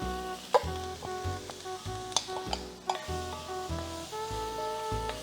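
Garlic and butter sizzling in a frying pan while making butter chicken, with a steady frying hiss broken by repeated scraping and stirring strokes, close and fairly quiet.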